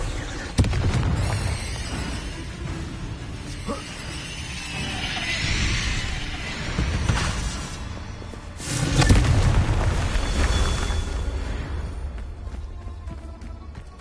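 Confringo blasting spell explosions in the Hogwarts Legacy video game: a sudden loud boom, then rumbling, crackling blasts, with another heavy burst partway through and a long roaring tail.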